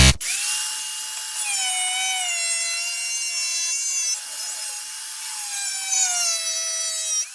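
An angle grinder cuts into a part on a BMW E36/E46 M3, giving a sustained high, whining tone that shifts in pitch as the load varies and runs continuously with no speech.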